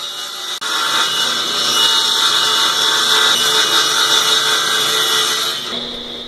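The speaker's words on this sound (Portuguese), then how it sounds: "Depois cortei as 4 pernas com 80 cm de comprimento." A power saw cuts wooden legs, 80 cm long, for an eight-seat dining table. It gives one steady, loud, whining cut that starts abruptly and runs for about five seconds with no talk.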